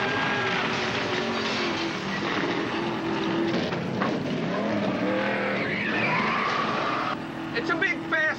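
A big, fast Toyota truck tearing along with engine roar and squealing, skidding tires, loud and continuous with a broadcast-style mix that eases off near the end.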